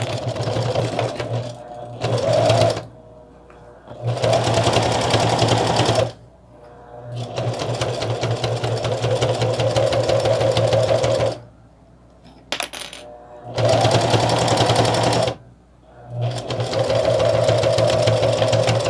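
A sewing machine stitches a small pouch in several bursts of rapid, even mechanical clatter, stopping and restarting with short pauses between runs, close and loud with no talk.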